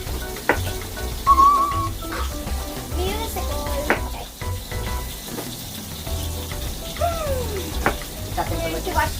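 Taco meat for a taco salad frying in a pan that is running too hot, a steady close sizzle with scraping stirring clatter and scattered clinks throughout, with no speech over it.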